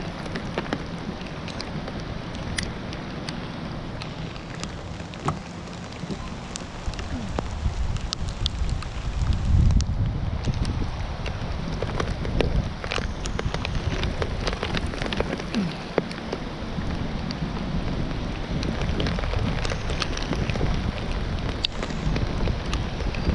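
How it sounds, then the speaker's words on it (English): Rain pattering steadily outdoors while wind gusts rumble and buffet the microphone, rising in force around the middle and staying rough and close for the rest, with no one talking. "Barely feel the rain in the face. Oh, there comes another gust."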